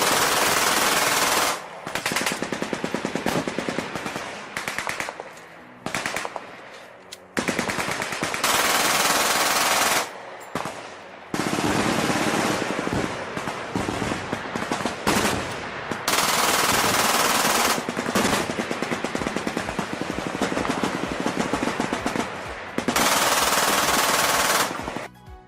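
Glock 18 machine pistol firing full-auto in long, loud bursts of rapid shots separated by short pauses, with no voices.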